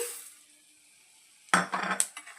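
Coriander seeds tipped into a hot dry pan for a drumstick spice powder, a sudden close rattling clatter of seeds and scraping against metal after a quiet stretch, continuing in uneven bursts as they are stirred.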